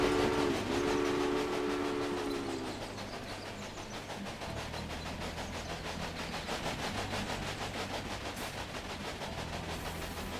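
A train in the game Railway Empire rumbles along with a rhythmic, repeating clatter, preceded by a brief whistle blast near the start, with a continuous low hum underneath.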